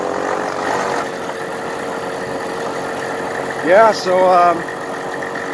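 A Kinetic moped with a newly replaced clutch idles and runs on a cold country road, a steady mid-pitched engine hum under brief talk, with a short rising rev near the end.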